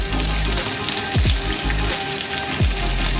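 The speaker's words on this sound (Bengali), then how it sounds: "মানে এটা একটু ভাজা হোক।" Chili chicken ingredients frying in a little oil, a steady close sizzle and crackle with a few sharp spatters, no talk.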